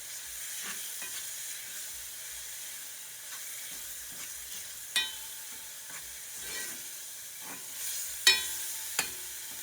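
Tomato paste cooks in a pot for Puerto Rican rice and beans, giving a steady low sizzle with occasional sharp scrapes and clinks of stirring, close and moderately quiet, with no voices.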